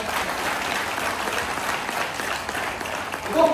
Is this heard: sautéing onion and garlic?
no